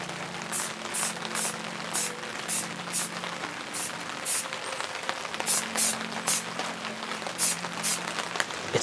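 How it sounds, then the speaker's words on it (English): Rain falling during outdoor rifle painting in an M81 woodland pattern, a dense steady patter of drops with rhythmic bursts of heavier splashing over a low hum, close and continuous. "I'm sorry about the sound of the rain"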